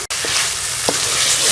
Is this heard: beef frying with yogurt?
yes